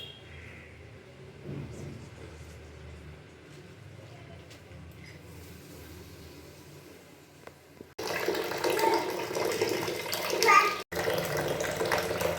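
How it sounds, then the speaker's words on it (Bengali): Water splashes and pours loudly while a young daughter is bathed at home, after a quieter stretch of faint room sound and soft voices, with a voice audible. "এই যে মেয়েকে স্নান করানো কমপ্লিট"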